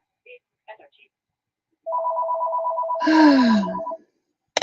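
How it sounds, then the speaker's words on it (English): A telephone rings indoors in a home during a pastel drawing session, giving a loud, repeating electronic warble for about two seconds, preceded by a few faint, brief voice sounds. "there goes the phone again"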